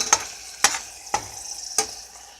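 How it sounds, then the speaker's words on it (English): Tomato velvet soup with basil is stirred in a pot, four distinct spoon scrapes against the pot spaced about half a second apart, close and clear over quiet background. "Go ahead and stir a bit."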